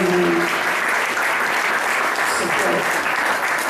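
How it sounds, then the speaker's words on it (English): A room full of people applauds a former state representative at a special event, sustained dense clapping loud and close throughout, with a voice briefly audible at the start. "I want to give this man a round of applause for his unwavering"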